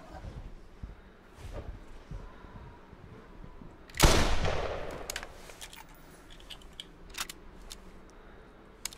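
A single loud shot from a .30 R O/U break-action rifle in theHunter Classic rings out midway and trails off in a fading echo, with faint clicks before and after.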